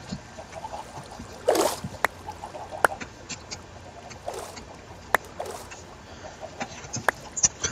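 Chickens cluck in Minecraft, short scattered clucks and bursts spread across the clip against a quiet background, with no talk.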